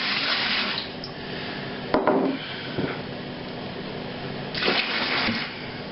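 Tap water running steadily into a sink or vessel for rinsing brewing yeast, a continuous close splashing wash with a few louder gushes and clunks partway through.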